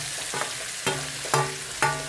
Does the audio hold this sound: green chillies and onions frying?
yes